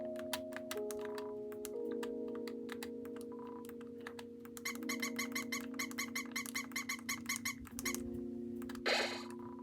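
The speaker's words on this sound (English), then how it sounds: "Squeak." A small mouse squeak from the video game Undertale, in the Waterfall area, sounding over steady tonal game music with a rhythmic ticking, chiming pattern through the middle.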